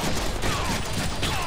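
Game gunfire in the Deadpool video game, a steady stream of rapid shots under a dense, continuous battle mix, loud and close throughout with a faint voice underneath.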